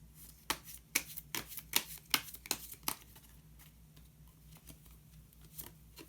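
A card drawn from a deck after shuffling: a rapid series of close, crisp paper flicks and riffles for about three seconds, then softer scattered rustles and taps, fairly quiet, with no voices.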